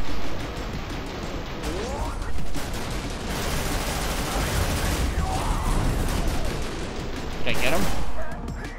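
Heavy arm cannon gunfire in the video game Severed Steel, loud blasts and crashing impacts over continuous dense combat noise, with bursts near the start and a big blast toward the end.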